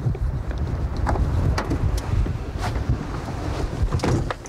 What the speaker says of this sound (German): Das ist zu windig hier, gell?